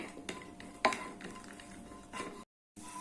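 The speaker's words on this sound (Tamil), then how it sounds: "இதில் நான் கொஞ்சமாக முந்திரி வச்சுருக்கேன் அதை சேர்த்துட்டு கொஞ்சம் செவக்க வறுத்துக்கலாம்" Cashews frying in ghee in a pan for Chettinad Rangoon puttu, faint and quiet, with soft sizzling broken by sharp clinks of a spoon or ladle stirring against the metal.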